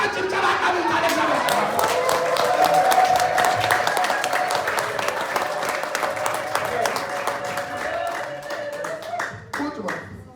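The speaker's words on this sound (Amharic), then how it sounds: "ብድግ በልና ጭብጨባ ቃል ታደርጋለ" A church congregation bursts into sustained applause and clapping, loud and dense, with scattered cheers and voices mixed in, tapering off near the end.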